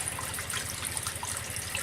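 Tap water rinses an etched glass Christmas ball under a faucet, a steady close splashing gush with a slight rhythmic flutter and no talk.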